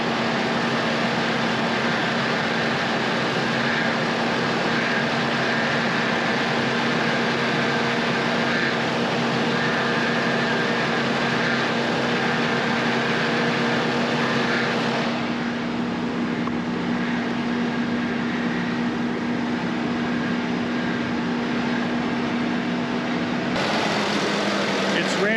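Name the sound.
36-year-old Toyota Land Cruiser 60 Series engine idling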